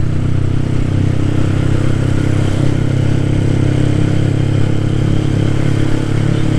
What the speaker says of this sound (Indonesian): knalpot bujel yang nggak teriak-teriak banget